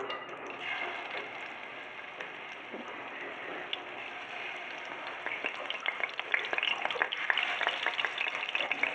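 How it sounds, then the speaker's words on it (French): Meatballs sizzle and crackle in hot oil in a frying pan, a steady dense frying hiss close by, with scattered pops growing busier toward the end. "je vais les mettre dans une poêle avec un peu d'huile"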